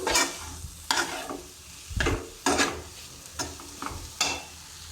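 Chutney vegetables sizzle in a pan while a spoon stirs them in repeated scraping strokes, about seven or eight close, loud bursts over a soft frying hiss, no talk.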